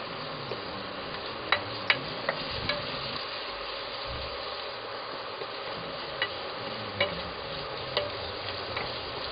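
Onions fry in a pan for a masala pizza sauce, a soft steady sizzle broken by scattered clicks and scrapes as they are stirred, close and fairly quiet with no one talking.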